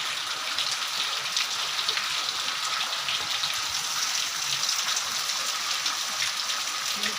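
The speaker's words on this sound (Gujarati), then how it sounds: "ધોધમાં સારામાં સારો વરસાદ આવે છે" Heavy rain pours steadily over a village near Kokda, Vanthali, Junagadh, a dense, even hiss of falling water lasting throughout with no voices.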